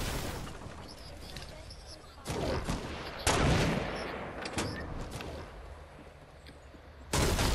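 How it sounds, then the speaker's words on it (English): Sniper rifle shots ring out in a video game, several loud sharp cracks spread unevenly over the stretch, each with a boomy tail, mixed with other game noise and people talking. "I shot him right at his chest, shot a bullet, it missed somehow, and he just quick scoped"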